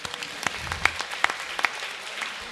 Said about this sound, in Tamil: எல்லாரும் சேர்ந்து கைதட்டுமா உங்களுக்கு?